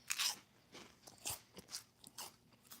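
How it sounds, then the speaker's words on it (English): Someone chews food close to a phone mic: wet, crunchy bites and mouth noises repeat in irregular bursts, fairly loud and alone without talk. "My bad that I'm chewing in the phone."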